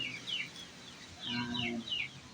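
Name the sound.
chickens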